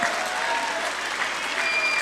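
Steady audience applause fills a short stretch at a poetry gathering, dense and even from start to finish with no voice over it.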